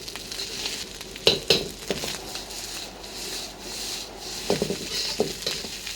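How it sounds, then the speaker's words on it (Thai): Rice is stir-fried in a hot pan for sausage fried rice, with soft scraping and rubbing strokes of the spatula over a low sizzle, and a few sharper clatters in between. "ถ้าเราตั้งกระทะร้อนแล้วข้าวจะไม่ติดกระทะนะครับ"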